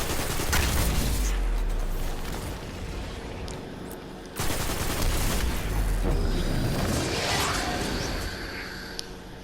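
Gunfire in Destiny shooting at boxes, dense rapid shots and booming impacts that continue throughout with a whooshing sweep in the second half, loud and close.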